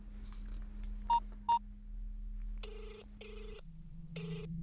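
A telephone being dialed: two short high beeps of keypress tones, then several longer paired tone bursts over a low steady hum, quiet and close, with no talking.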